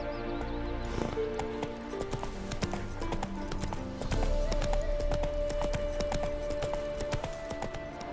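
Roach the horse gallops in The Witcher 3, hooves clip-clopping in a fast, steady rhythm, close and continuous over a game music score with sustained tones.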